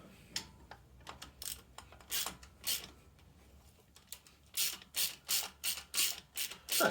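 Ratchet wrench fitted with a long extension, worked on a 1994 Jaguar XJS V12 facelift during winter repairs: rapid clicking bursts, sparse at first, then a steady run of loud, evenly spaced ratcheting strokes near the end, with no talking.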